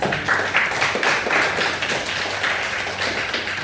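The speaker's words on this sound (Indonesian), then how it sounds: "tepuk tangan untuk kita" Steady clapping from a small audience closes an Islamic education teaching assessment session, continuous and moderately loud with no talking over it.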